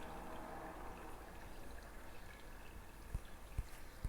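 Water flowing steadily in the horror game Метель, a continuous watery rush filling the background with a few soft knocks toward the end and no talking.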